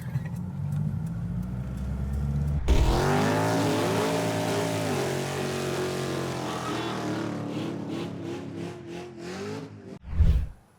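Car cruising along a road in South Iceland, a steady engine hum and tire roar inside the cabin with a smooth rising and falling tone, ending in a brief louder whoosh.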